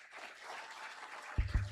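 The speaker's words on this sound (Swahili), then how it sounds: "makofi mengi kwa afisa mtendaji mkuu wakati anarudi kuketi" Applause at a graduation ceremony for the chief executive officer as he returns to his seat, a moderate, even patter of clapping from a crowd, joined near the end by a couple of low thumps.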